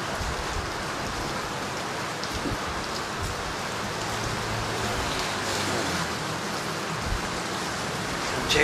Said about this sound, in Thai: ขนาดฝนตกตก